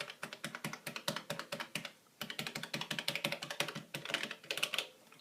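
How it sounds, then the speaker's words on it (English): Clicky buttons on an Elektron Octatrack mk2 sampler are pressed in quick irregular bursts of sharp plastic clacks, close and distinct, pausing briefly once before resuming, with no talk. "had circular buttons and they were all clicky clacky"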